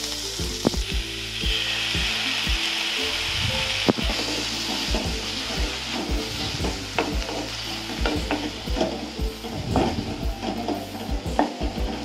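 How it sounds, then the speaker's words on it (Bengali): Spinach stir-fried with sauce in a kadai for Korean japchae noodles, a continuous loud sizzle broken by repeated scraping and knocking of a spatula against the pan, with no one speaking. "এর মধ্যে দেবো পালং শাক, এবং এটিকেও আমরা সস দিয়ে ভালো করে ফ্রাই করে নেব।"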